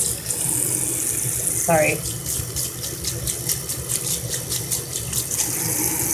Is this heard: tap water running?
yes